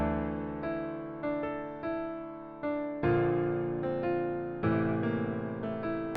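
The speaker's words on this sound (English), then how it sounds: "so this is the bass melody we're gonna run with." Dark bass melody for a bouncy trap beat built in FL Studio, with harmonic synth notes and deep low end pulsing in steady repeated phrases, loud and alone with no talk.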